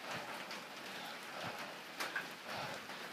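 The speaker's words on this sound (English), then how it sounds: "It's really rainy and miserable and humid outside and cold." Rain falls outside on a cold, humid day beside a brick rocket stove, a soft steady patter with a few louder drips.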